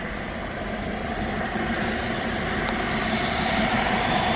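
A 2006 Buick Lucerne engine idles in a steady, even drone, close and continuous for the whole stretch with a faint rhythmic ticking on top and no voices.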